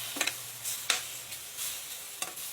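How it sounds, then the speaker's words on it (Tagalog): Marinated sauce poured over softened marinated meat in a pan for a Filipino fiesta dish, with faint sizzling and a few soft stirring scrapes and splashes at irregular moments, no talk. "Ngayon, ilagay na natin ang marinated sauce."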